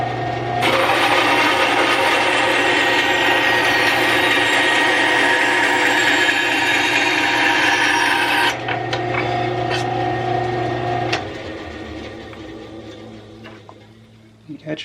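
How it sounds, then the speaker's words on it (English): A small wooden block is sanded with a loud, steady, whirring abrasive grind that holds for about eight seconds. A lower motor hum then carries on briefly before winding down to quiet. "There's a little corner I need to sand a little."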